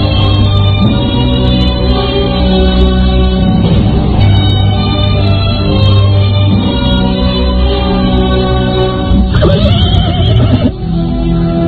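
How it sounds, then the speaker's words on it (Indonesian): Horses of arriving riders neigh and whinny loudly in a theatrical radio drama, with a long drawn-out whinny, a second cry near the end and faint hoof clip-clop beneath. "Pada saat itulah terdengar orang-orang berkuda datang."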